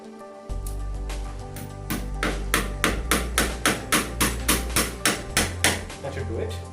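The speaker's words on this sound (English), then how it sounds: "Let's try to hammer the nail in first." Steady hammer blows drive a nail in while a curtain spring is fitted to a window, about a dozen sharp, evenly spaced strikes that speed into a quick rhythm, close and loud over a low background hum.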